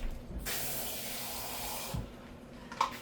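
Tap water runs into a half-cup measuring cup in a home kitchen while beef stroganoff manicotti is being made, a steady close hiss for about a second and a half, then a brief splash and clink.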